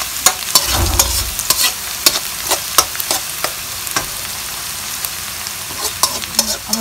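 Onions frying in a pan until brown for an egg curry, giving a loud, close, continuous sizzle broken by frequent quick stirring clicks and scrapes.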